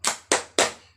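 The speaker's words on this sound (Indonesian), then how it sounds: "Kalau kau cinta Allah, tepuk tangan." Three crisp hand claps in a steady rhythm, close and fairly loud, keeping time to a children's song about loving Allah, with no voice over the claps.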